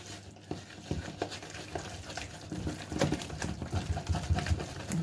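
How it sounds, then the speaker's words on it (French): Muffin batter with pear and endive, loosened with a splash of milk, is stirred in a bowl, giving a close, steady run of soft scraping and wet patting strokes that repeat irregularly throughout. "Et je vais bien mélanger tout ça."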